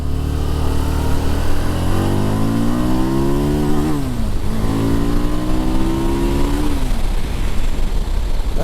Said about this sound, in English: The rev limiter cut in on me